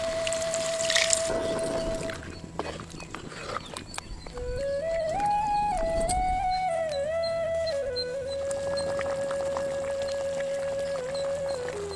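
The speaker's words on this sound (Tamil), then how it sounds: "கொஞ்சம் தண்ணியை சேர்த்துக்கலாம்" Water is poured into a pan of country chicken kurma as it cooks, a close splashing trickle under a steady tonal background hum.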